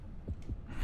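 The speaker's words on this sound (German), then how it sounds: "da wird der Herzschlag lauter" A low heartbeat thumps in the underwater shark game Depth, two soft muffled beats close together, building slightly louder toward the end.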